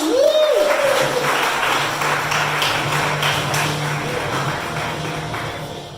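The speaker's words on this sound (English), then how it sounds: "And clap it up for Carrie John." Applause from a comedy-club audience greeting a stand-up comic, a sustained patter of many hands with a brief rising whoop or whistle at the start, fading gradually.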